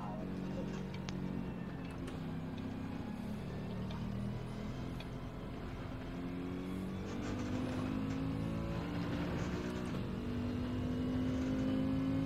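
Race car engines in Gran Turismo 7 drone steadily throughout, a sustained layered engine note that swells slightly louder toward the end, with no talk over it.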